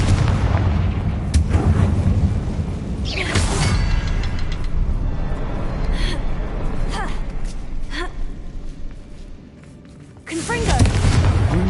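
Confringo fire spell explosions in Hogwarts Legacy, several loud booming blasts with sharp cracks spread across the stretch, layered over rumbling game sound and a voice talking.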